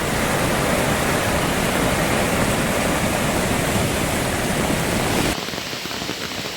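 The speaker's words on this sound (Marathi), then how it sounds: "कसलं जातं आहे फोर्सने पाणी" Floodwater from a monsoon-swollen village river in Konkan rushes with force over a bridge, a loud, continuous broadband roar that holds steady and then drops to a softer rush near the end.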